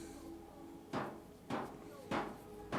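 Four evenly spaced hammer blows ring out while a settlement is built in Fallout 4, each a sharp knock over quiet game ambience.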